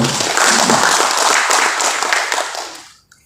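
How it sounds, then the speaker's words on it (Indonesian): An audience at a discussion forum in Senayan applauds an honoured guest, with loud, dense clapping that holds steady before tapering off and stopping abruptly near the end. "Tepuk tangan untuk beliau."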